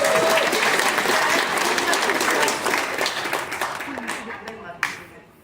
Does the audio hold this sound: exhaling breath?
no